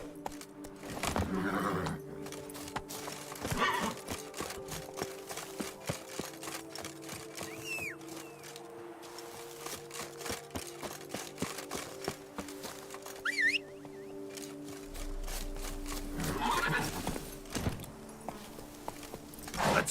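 A horse gallops in The Witcher 3: Blood and Wine, its rapid hoofbeats steady over game ambience, with occasional louder snorting or neighing bursts.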